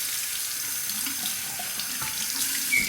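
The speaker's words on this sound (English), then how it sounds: "Okay, final rinse of the razor." A water tap runs steadily into a sink while a Parker 78R safety razor is rinsed under the stream, a close, continuous splashing hiss with small clinks and spatters and no talking.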